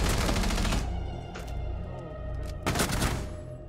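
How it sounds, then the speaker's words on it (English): Dense bursts of automatic gunfire in Rainbow Six Siege crackle in two loud volleys, the first at the start and the second near the end, with a lower, steadier game rumble between them. "those shots missed me"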